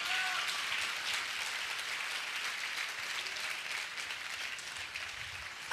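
A church congregation claps steadily together in thanks to the Lord during a Hindi sermon, a dense, even wash of applause that holds for several seconds before ending.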